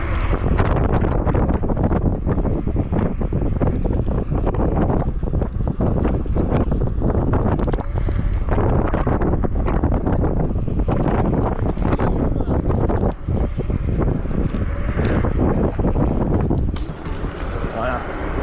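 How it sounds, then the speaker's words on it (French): Strong wind buffets the microphone while riding a Kukirin G2 Master electric scooter at night, a loud continuous roar throughout, with someone talking over it. "je pense que vous entendez à la caméra, mais il y a beaucoup de vent"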